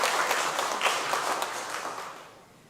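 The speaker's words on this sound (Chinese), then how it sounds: "我们再一次拍手来欢迎他们" Church congregation at a Sunday service clapping to welcome newcomers, a brief burst of many hands applauding together that fades toward the end.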